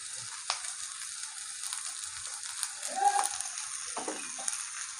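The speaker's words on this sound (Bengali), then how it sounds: "এখানে আমি আলু, বরবটি, পেঁয়াজ ভেজে নিয়েছি ভালো করে।" Potatoes, yardlong beans and onions sizzle steadily in a frying pan, a continuous close hiss with occasional clinks and stirring scrapes.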